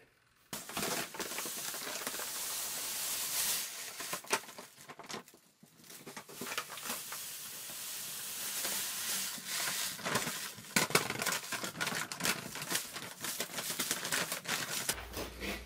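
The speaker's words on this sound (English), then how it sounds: "We put 12 gallons of water, and then we add the grain, which the grain was 7 kilograms of European Pilsner malt," Seven kilograms of European Pilsner malt grain tipped into water in a brewing mash tun, a close run of irregular pattering, rustling and clattering bursts with a brief lull partway through.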